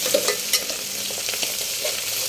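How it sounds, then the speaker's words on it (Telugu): Onions, green chilli, mint and curry leaves fry in ghee with a loud, close, continuous sizzle, and light stirring scrapes sit over the crackle. "ఉల్లిపాయలు గోల్డెన్ బ్రౌనిష్ కలర్ వచ్చేంత వరకు వేయించుకోవాలండి."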